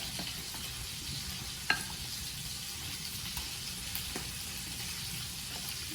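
Potatoes with salt and spices for garlic butter potato bites get mixed, a quiet, continuous rustling and scraping with one brief clack, close and soft, with no speech.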